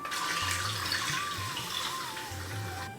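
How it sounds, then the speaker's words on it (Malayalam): Water pours steadily into a pot of rasam, a continuous close splashing rush with no break for about three seconds. "ഇനി ഇതിലേക്ക് നമുക്ക് ആവശ്യത്തിനുള്ള വെള്ളം ഒന്ന് ഒഴിച്ച് കൊടുക്കാം."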